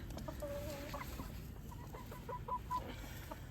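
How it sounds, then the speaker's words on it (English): An older hen lays white eggs and clucks in short, close bursts against a steady farmyard background hum, with a few higher calls toward the end. "She's one of our older hens."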